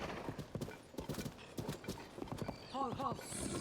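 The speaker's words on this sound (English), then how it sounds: "This horse even listens to whistles." A horse in Zelda: Tears of the Kingdom clip-clops along in an even trot with a clear neigh near the end, while someone talks over the hooves.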